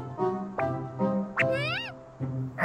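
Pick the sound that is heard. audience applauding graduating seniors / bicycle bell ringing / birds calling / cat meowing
cat meowing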